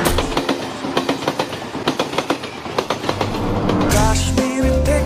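A passenger train runs along rails with a steady, rhythmic clickety-clack of wheels over rail joints, set against music with sustained tones that swells louder near the end.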